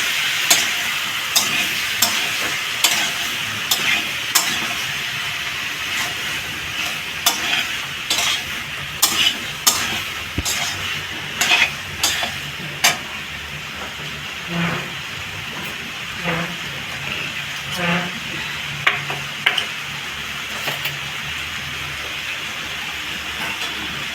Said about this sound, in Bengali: এরকম করে কষাবেন আস্তে আস্তে করে